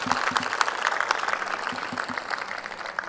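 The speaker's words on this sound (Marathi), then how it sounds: "आपण सगळ्यांनी एकदा जोरदार टाळ्या आपण त्याला मारल्या पाहिजे" An audience at a lecture event claps together in a sustained burst of applause, steady and fairly close, with a voice faintly underneath.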